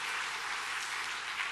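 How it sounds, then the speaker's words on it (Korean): Church congregation applauding a choir, a brief, even wash of many hands clapping at a moderate distance, steady and unbroken for just over a second with no voices on top. "박수 다시 한번 해주시기 바랍니다."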